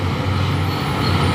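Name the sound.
Colt Diesel truck overtaking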